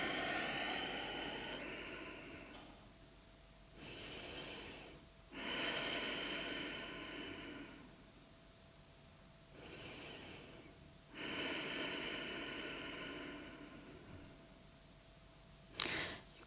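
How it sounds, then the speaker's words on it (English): Slow, deep breaths during a traditional hatha yoga session, several long airy inhale-exhale cycles rising and falling in near, quiet room, ending with a short sharp snort-like breath. "Few more deep breaths here."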